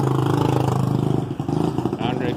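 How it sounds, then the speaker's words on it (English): A motorcycle engine chugs loudly nearby with a steady pulsing throb, revving a little amid street traffic noise. "you're gonna get a lot of noisy motorcycles over here."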